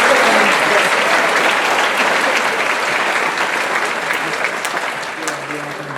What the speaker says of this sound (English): Let's give one more round of applause to Colin Schmidt Isbay and Jim Jackson and Dice.